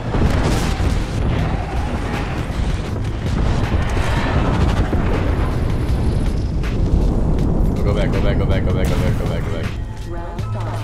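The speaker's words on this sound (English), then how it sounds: "Airstrike" Booming airstrike explosions in the Apex Legends video game (Season 5, Xbox) pound continuously for about eleven seconds, loud and dense, with a voice talking over the blasts.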